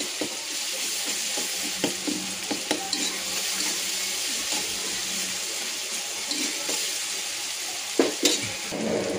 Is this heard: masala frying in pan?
yes